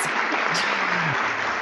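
Dense, steady clapping from a crowd fills the whole stretch, loud and continuous with a faint voice underneath.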